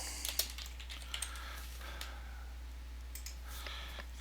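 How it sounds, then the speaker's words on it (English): Quick, light clicking of keys on a computer keyboard, fairly quiet and close, with uneven typing bursts over a steady low electrical hum. "Excuse my typing."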